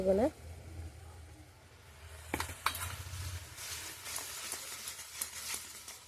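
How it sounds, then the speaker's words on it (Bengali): Rice flour being stirred into melted sugar and coconut in a pan for rice-flour sweets, soft scraping and faint sizzle with a couple of utensil clinks, close and fairly quiet. "এবার চালের গুঁড়োটা ধীরে ধীরে দিয়ে দেবো অল্প অল্প দেব অল্প অল্প মেশাবো একসঙ্গে"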